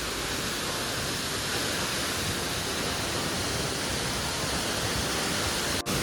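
Palaruvi waterfall in Kerala, with water falling steeply, gives a loud, unbroken roar of rushing water that fills the whole clip at a steady level.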